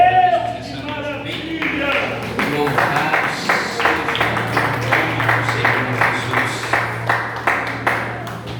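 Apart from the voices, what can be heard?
church congregation applauding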